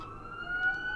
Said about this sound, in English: there's lots of sirens flying by